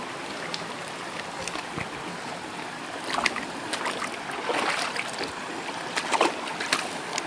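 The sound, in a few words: mountain river flowing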